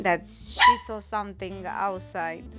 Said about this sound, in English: So sorry for my dog that it's barking here